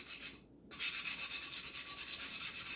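Hand sanding of a stainless steel tumbler being prepped, a faint close rhythmic rubbing scrape repeating steadily around the cup after a short pause.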